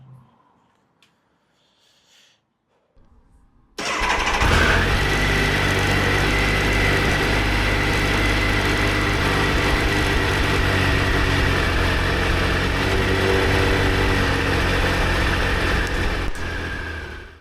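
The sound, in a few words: Triumph Sprint ST 955i motorcycle engine starting and idling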